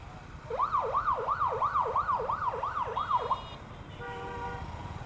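An ambulance siren wails in Dhaka street traffic, rising and falling steadily for several seconds and fairly close, then breaking into a steadier multi-tone blare over a continuous low rumble of engines.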